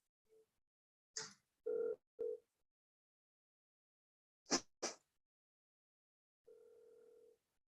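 Telephone dial tone and call-progress beeps as a sales call is being placed: a few short tones and clicks, then a steady tone of about a second near the end, fairly faint, with no talking.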